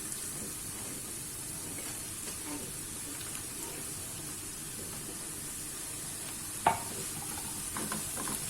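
Sautéed onions and green peppers sizzle steadily in a pan while being stirred, with soft scraping and a single sharp clack of the utensil near the end, without talk.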